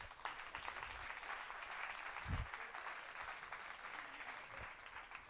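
An audience applauding the jury at a simulation competition match, steady, fairly faint clapping throughout, with a couple of low thumps mixed in.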